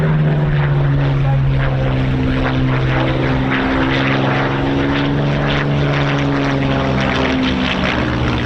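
A Spitfire with a Merlin 63 engine flies at an airshow, and its loud propeller-engine drone holds steadily through the whole stretch with a shifting tone as it passes.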